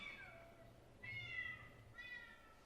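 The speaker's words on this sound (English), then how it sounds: "Oh, out of the way, damn cat." A cat gives three separate meows in a row, each a drawn-out rising-falling cry, moderately close over a low background hum.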